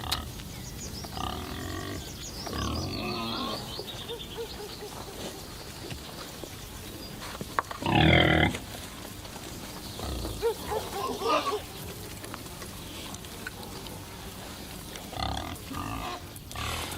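Pigs grunt and snort in a barn, several rough bursts scattered through the stretch with one loud close burst midway, over a steady background hum.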